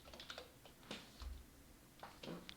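Irregular computer keyboard typing entered while uploading a fan game, a loose run of soft clicks and short bursts at close range with no talk, over low background hum.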